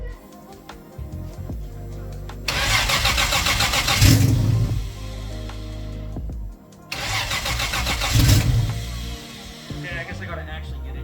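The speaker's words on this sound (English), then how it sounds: "I'm starting the car." A car with a Toyota JZ engine starting twice: each time a starter crank catches into a loud, rough mid-pitched engine roar that settles briefly before cutting out.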